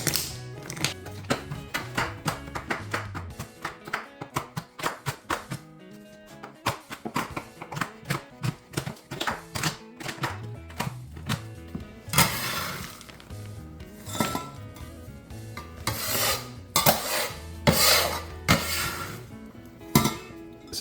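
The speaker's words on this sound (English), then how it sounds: "we're going to cut this chocolate up" A knife chops chocolate repeatedly against a board, sharp clicking taps in quick irregular bursts, pausing briefly before another flurry of cuts.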